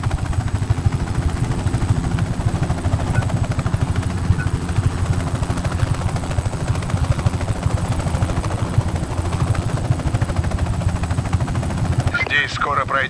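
A helicopter in the video game Just Cause 3 drones steadily throughout, its low, even rotor-and-engine rumble close and constant, with faint speech mixed in.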